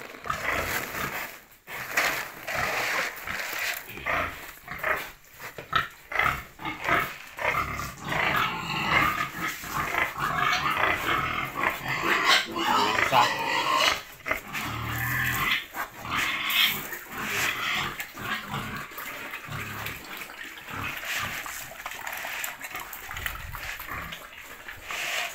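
Pigs in a piggery pen grunting and squealing, with rough, snorting calls and shuffling noise close by, continuous and fairly loud throughout.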